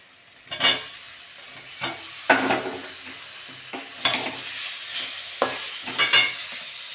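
Chicken skin and potatoes fry in a pan with chili powder while a utensil stirs them in irregular scraping strokes over a soft, steady sizzle, with no talking.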